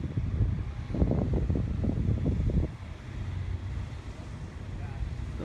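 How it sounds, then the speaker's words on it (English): Strong wind buffeting the microphone at an outdoor motorsport track, a steady low rumble throughout, with a voice talking over it for the first half. "The wind is still blowing pretty strong, as you can see."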